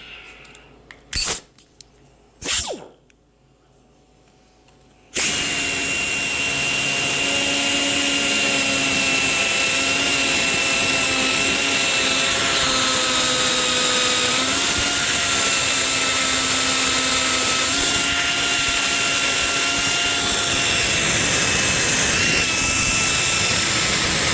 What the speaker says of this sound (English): So we'll get the die grinder on here and show you what I'm talking about